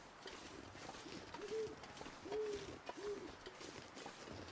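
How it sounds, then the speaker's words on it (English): Owls hoot outdoors at night in three short, fairly faint calls spaced about a second apart, set against a steady rush of wind and other soft outdoor noise. "Yeah, now I'm just getting the wind and the owls."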